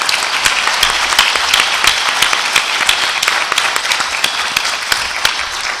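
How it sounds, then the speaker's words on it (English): Vigorous audience applause for speakers at the close of a panel Q&A session, with crisp individual claps standing out over a continuous roar of clapping that lasts several seconds. "I'd like to ask that you give our speakers one last round of applause."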